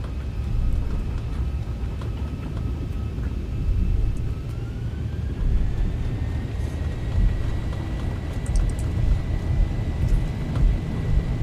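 Jet engines of a Zibo Mod 737 airliner in X-Plane spooling up for takeoff, a steady rumbling roar with a whine that rises in pitch partway through, continuous and without talking.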